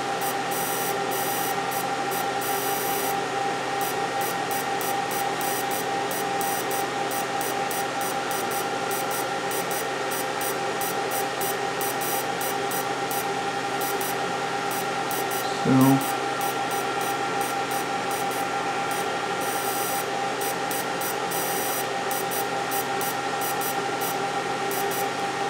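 A laser engraver running at about 1 watt and 100 millimeters per minute works across an old CPU, making a steady whine with rapid periodic ticking and one brief thump partway through.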